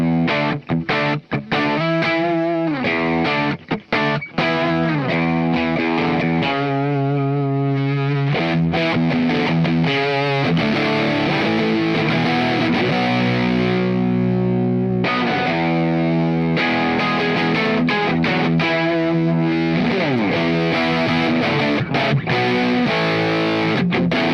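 Distorted electric guitar through a Stu G Legends of Fuzz pedal, thick buzzy fuzz chords and sustained notes played continuously and loud, with the gain shifting as the volume knob is rolled.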